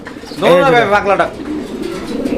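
A male pigeon gives one close, loud rolling coo lasting about a second, followed by softer low murmuring, with a person talking nearby at a market.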